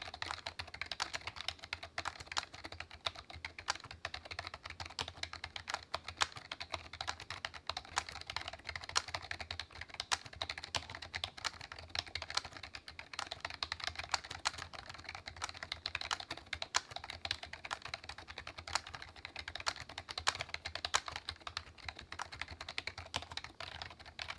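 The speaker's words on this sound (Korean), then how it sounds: "이 제품은 바로 타이핑 해볼게요" Steady, fast typing on a low-profile computer keyboard, an older classic model with a palm rest, keys clicking in a continuous dense patter with no voices.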